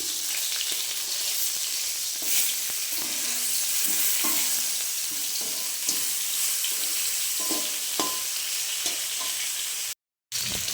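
Rupchanda fish heads fry in oil in a pan with a constant, crackling sizzle, punctuated by a few soft stirring knocks, close and fairly loud, with a short gap of silence near the end.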